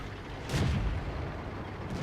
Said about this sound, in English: here is the Excelsior firing on the move